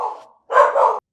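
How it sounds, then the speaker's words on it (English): Australian cattle dog barking indoors, a fading bark followed by a pause and then one loud, drawn-out woof, close and clear. "Your dog saying hello."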